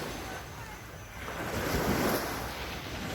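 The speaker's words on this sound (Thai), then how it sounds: "ฟังเสียง คลื่นทะเลนะครับชัดกระทบฝั่ง" Ocean waves break on the shore of a sand beach, a steady rushing wash that swells into a louder crash midway and then eases back, with wind noise across the microphone and no one talking.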